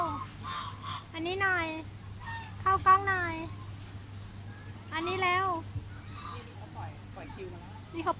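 Geese honk on an organic farm with a garden café in Nakhon Pathom, giving several close, nasal calls in short bursts over a low steady hum.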